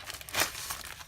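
A crinkly plastic sticker package is opened close by, with steady rustling and crackling and one brief louder tear near the middle.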